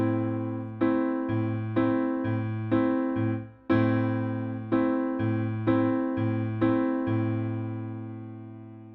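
Piano chords played in a steady pattern, hands alternating right and left between low and higher voicings, each struck chord ringing briefly before the next, clear and close.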